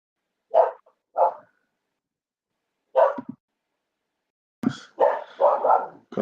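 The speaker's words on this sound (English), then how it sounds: "got my dog here going off in the background just at the right time." A dog barks in the background, a pair of short barks followed after a pause by another, then a louder cluster of rapid barks and yips near the end.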